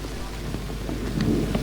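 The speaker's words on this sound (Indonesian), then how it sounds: "cuaca telah turun hujan" Rain falls steadily over an outdoor state funeral at the TMP Kalibata heroes' cemetery in Jakarta, with thunder rumbling low beneath the constant wash of the downpour.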